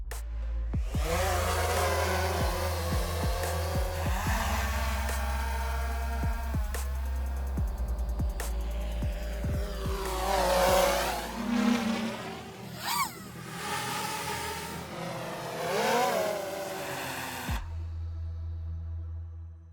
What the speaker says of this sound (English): We'll take a quick listen to each of the different quadcopters